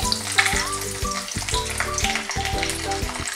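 Cinnamon, black cardamom, cloves, peppercorns and garlic cloves fry in hot oil with a bright, close crackling sizzle over a steady musical backing.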